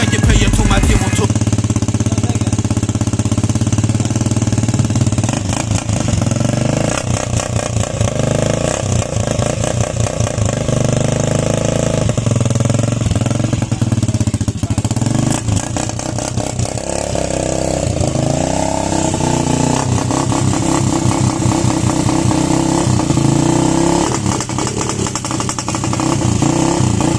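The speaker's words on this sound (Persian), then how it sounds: "ببینیم موتور تگینیل روشن میشه یا نه" A motorcycle engine runs loud and steady throughout, a rough sputtering idle that rises into revs at moments, close by, with voices faintly underneath.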